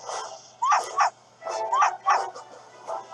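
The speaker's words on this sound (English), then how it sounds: "that aggressive bark" In the Professor Layton vs Ace Attorney game, a dog barks aggressively, sending out a rhythmic series of paired, yappy barks that repeat several times, close and loud over faint background music.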